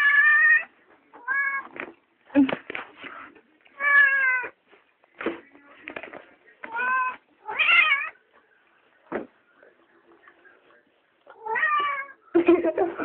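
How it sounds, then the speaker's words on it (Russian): A cat meows repeatedly in short, separate calls with brief pauses between them, close to the microphone, and one call stretches into a drawn-out, wailing meow. "Кошка какая наглая."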